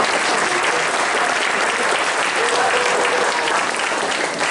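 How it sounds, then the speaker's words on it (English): Audience applauding musical theater campers at a summer show, a loud, dense, steady wash of clapping from a large crowd that fills the whole stretch without letting up. "let's give them a big round of applause"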